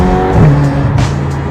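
Ferrari California T engine revving up under brief acceleration, a loud steady roar with rising harmonic tones, up close and continuous with no talking.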